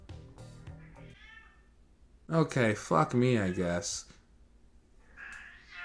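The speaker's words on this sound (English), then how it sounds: "you can hear my cat in the background" A pet cat meows in the background of an indoor room, several drawn-out, rising meows clustered together at moderate loudness, following and interrupting a person's speech.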